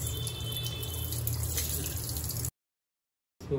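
Tap water runs through the spray arm holes of a Siemens dishwasher, a steady close hiss of spraying water with dripping, cut off abruptly and then resuming briefly.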